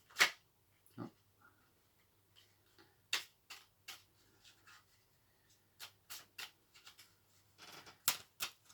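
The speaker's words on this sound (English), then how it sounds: "Both decks are being pre-shuffled, so let's just get the cut sorted" Sparse, crisp shuffling and snapping of tarot card decks close up, with short bursts and pauses between them, no talking.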